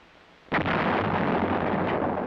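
A self-propelled 105mm howitzer fires once with a sudden loud blast, followed by a sustained heavy roar and rumble that fills the rest of the clip.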